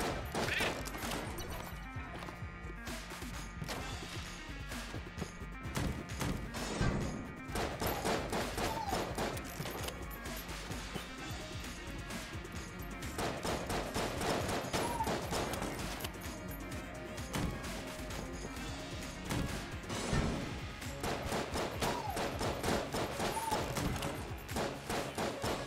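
Shotgun fire in the Enter the Gungeon video game, a rapid, busy run of sharp blasts and crashing impacts that keep repeating over a layer of game music.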